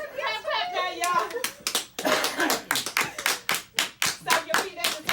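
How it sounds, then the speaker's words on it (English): Hands clap along in a steady rhythm to a fitness dance routine, sharp repeated claps close by, with a voice and other speech mixed in early on. "Clap now, y'all"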